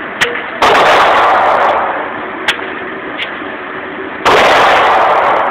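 An Uzi submachine gun fires in loud, close bursts: a short shot, then a long sustained burst, two single pops, and another sustained burst at the end.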